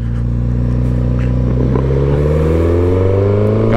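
Suzuki GSX-S 1000 motorcycle engine at full throttle, a loud steady roar with its pitch climbing smoothly through about four seconds of hard acceleration, with no voices.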